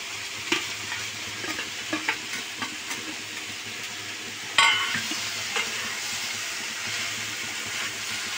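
Freshwater snails, washed and coated in salt and turmeric, fry in a pan for a poppy-seed curry, giving a steady close sizzle with soft stirring scrapes and one louder splash of hissing as more goes in.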